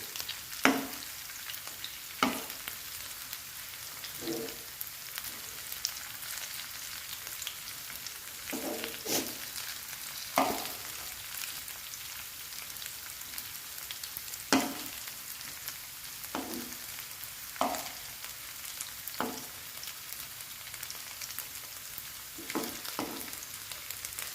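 Cauliflower pieces fry in hot oil in a pan with a steady crackling sizzle, broken by occasional scrapes and taps as pieces are turned one by one.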